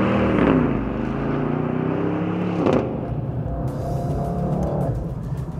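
A Mercedes E63s estate with Autobahn trim accelerates hard, its engine note droning loud and close through rising gears, with a brief shift burst partway through and a continuous strained roar to the end.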